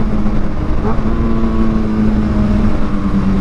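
Loud, steady engine drone from a Kawasaki ZX6R fitted with an Austin Racing GP1R exhaust while riding, holding a constant rumble with a brief pitch shift early on, consistent with downshifting, close and dominant throughout.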